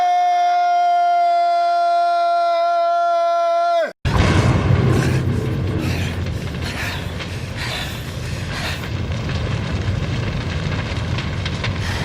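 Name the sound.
explosion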